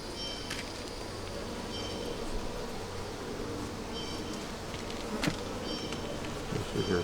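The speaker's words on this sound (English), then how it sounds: "Nope, we got bees." Honey bees buzzing steadily inside a starter hive used for raising capped queen cells, a dense continuous drone close by with a few faint clicks and knocks.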